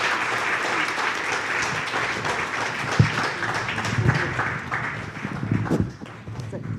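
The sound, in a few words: audience applause for the panel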